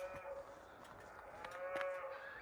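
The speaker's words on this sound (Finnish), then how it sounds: "lehmät iltalypsyllä" Cattle on a farm moo repeatedly at evening milking, a steady series of drawn-out lowing calls heard from mid-distance over a quiet rural background, with no one speaking.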